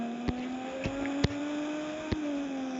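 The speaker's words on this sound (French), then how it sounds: "est-ce qu'il drift bien? Ah mais oui, il drift. Il drift bien." Car engine in a Roblox dealership tycoon game as the car drifts along a mountain road, a steady mid-pitched drone with faint clicks, fairly quiet and continuous.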